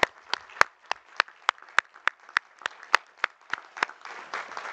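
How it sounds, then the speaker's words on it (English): Sparse, evenly spaced claps ring out at a college commencement ceremony, single sharp hand claps about every third of a second, loud and isolated before blending into a softer, fuller patter of applause at the end. "Please join me in a round of applause to show your appreciation."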